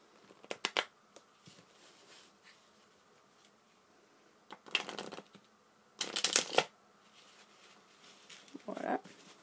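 Standard deck of playing cards shuffled for a card trick, several short riffling bursts separated by quiet gaps, close and fairly soft.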